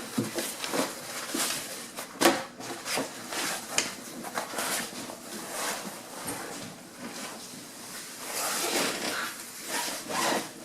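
A portable projection screen is unfolded by hand, giving a steady stream of close rustling, rubbing and creaking fabric and frame noises with scattered sharp snaps, and no talking throughout.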